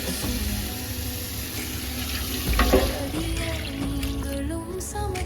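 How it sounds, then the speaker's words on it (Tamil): Mutton stock water is poured into a cooking pot while a biryani is being made, producing a steady, continuous splashing stream of liquid heard up close with no talking. "இப்போ இதுக்கு தேவையான தண்ணி ஊற்றணும்."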